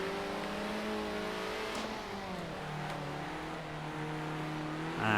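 A heavy race car in the Circuit Superstars video game, its engine droning and revving steadily throughout with shifting pitch, loud and close, with a brief sharper burst at the end.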